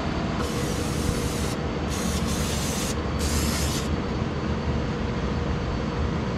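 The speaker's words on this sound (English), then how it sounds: "And now when we spray out the air box, it'll just run right out." Several hissing bursts of spray, four in a row, cutting in and out over a loud, steady low rumble, while cleaning out the air box of a Honda FourTrax 300 ATV.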